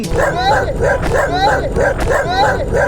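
Several dogs bark, yip and whimper in repeated bursts close by, chasing a rider on an electric unicycle scooter along a rough neighbourhood street, with steady motor and road noise underneath.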